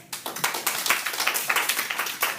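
Classroom group cheer done as rapid rhythmic clapping: a brisk, even run of about a dozen sharp claps from several children, close and fairly loud, with no clear voices.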